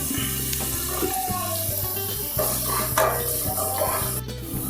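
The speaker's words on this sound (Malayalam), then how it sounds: "അപ്പോൾ ഒനിയൻ ഒന്ന് ഫ്രൈ ആയി തുടങ്ങി" Chopped onion frying in a pan for Kerala-style beef rice gives a steady close sizzle and hiss over a low droning hum, with a few soft clinks.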